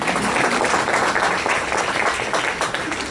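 Panel audience at a comic convention applauds, dense continuous clapping filling the room at steady volume for several seconds.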